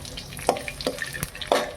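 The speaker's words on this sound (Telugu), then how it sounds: "ఆయిల్ హీట్ అయిన తర్వాత పచ్చిమిరపకాయలు వేసుకుంటాను." Sliced green chilies frying in hot oil in a pan, a soft sizzle with a few light clicks and pops over a brief moment.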